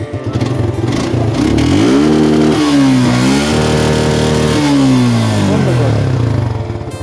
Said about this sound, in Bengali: তো সিয়াম এখন হচ্ছে আমার বাইকটা একটু স্টার্ট দিব